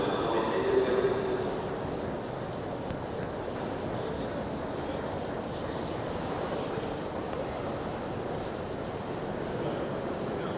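A Paris metro line 14 train heading south toward Orly airport, a steady rumbling roar of the running train with a brief brighter squeal near the start.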